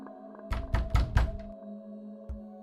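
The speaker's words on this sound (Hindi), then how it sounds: "किसी ने मेरे दरवाजे पर दस्तक दी।" Four heavy knocks on a wooden door in a quick uneven run, close and loud over a low ambient drone, followed after a pause by one more dull thud.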